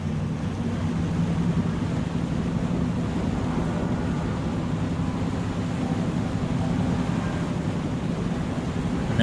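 A tractor engine in Farming Simulator 25 runs as a steady, unbroken low drone with a faint airy hiss over it, even in level from start to finish and with no voices.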